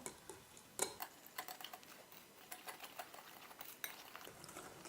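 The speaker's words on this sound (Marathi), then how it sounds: "आणि आता आपण छानरित्या फेटून घ्यायचं" Eggs and sugar being whisked for blueberry cupcakes, a steady run of quick tapping clicks with a few sharper knocks against the bowl, fairly close and alone without talk.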